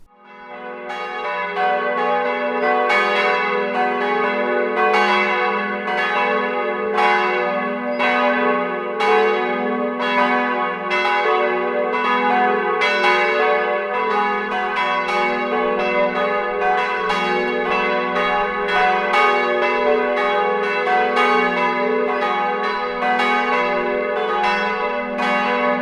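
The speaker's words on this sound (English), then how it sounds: "And also I prepared a clip with church bells." Church bells ring in a steady, overlapping peal for the whole stretch, loud and resonant with long ringing tones layered over one another, captured on a Shure MoveMic 88+ with no voices.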